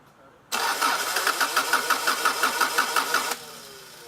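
A Subaru engine with a fuel pump that will not prime is cranked by its starter, a loud close rhythmic whirring churn of about three seconds with no catch, then a sudden stop.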